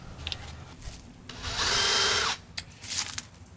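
A power drill bores at an angle into a wooden deck post for cable railing, with a short close whine after a few brief bursts and starts, and no talk.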